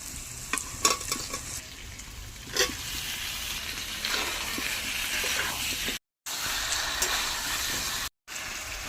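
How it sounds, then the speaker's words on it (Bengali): Fried potatoes and taro stirred into spice paste in a pan, a steady close sizzle with scraping and a few sharp clinks of the spoon, broken by two short silent gaps. "ভেজে রাখা আলুগুলি আর মান কচু ভেজে রেখেছিলাম সেগুলি দিয়ে দেবো দিয়ে আবার ভালো করে মশলার সাথে কষিয়ে নেবো"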